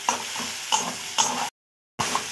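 Tomatoes fry in a pan with a steady close sizzle, broken by three spoon stirs and a short silent gap near the end.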